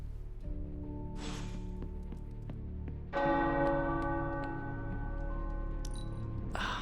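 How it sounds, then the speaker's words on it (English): Tower bells in the Marvel's Midnight Suns game ring out in resonant, sustained peals, with a fresh strike swelling louder midway and tones lingering and overlapping. "The tower bells are ringing."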